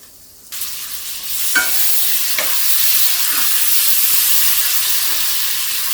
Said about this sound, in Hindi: ऐसे हम भून लेंगे। और इसमें हम डाल दे रहे हैं टमाटर।